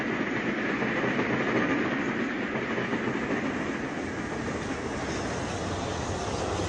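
A steam locomotive hauling a passenger train of non-gangway stock rumbles past steadily with a dense roar and faint rhythmic clatter of carriages, continuous and fairly loud throughout, early 1960s near King's Cross.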